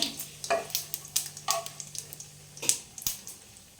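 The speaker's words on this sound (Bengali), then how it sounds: "তো দেখুন আমি ফোড়ন দিয়ে দিচ্ছি জিরেটা, শুকনো লঙ্কাটা, তেজপাতাটা, ভালো করে নাড়াচাড়া করব" Cumin, dry chilli and bay leaf hit hot oil with a light sizzle, broken by a series of sharp scraping stir strokes and clinks of a spatula against the pan, close and fairly quiet, with a faint steady hum underneath.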